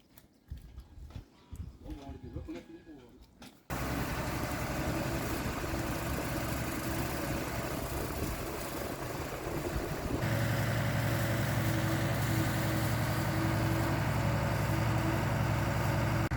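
A farm tractor engine idles close by in a livestock barn, starting after a few quieter seconds and then holding a loud, steady, even drone.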